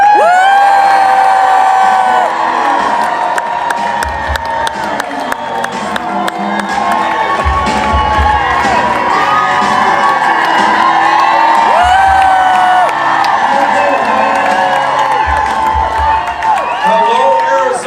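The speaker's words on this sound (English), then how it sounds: "Give it up for Coach and Governor Walz." A large rally crowd in Arizona greets Governor Tim Walz with loud, continuous cheering, whoops and shouting, with bursts of clapping running throughout.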